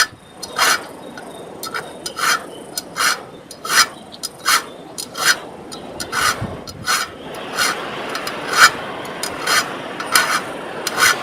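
Steady rhythmic rasping of a file resharpening blades, each stroke a short, close, fairly loud scrape repeated at an even pace with no talking.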